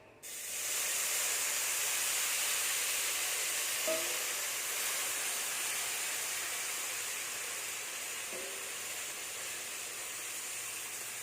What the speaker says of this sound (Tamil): இப்போ அதில் இந்த கொதிக்க வச்ச வெந்நீரை வந்து தண்ணியை வந்து இதில் ஊற்றிடலாம்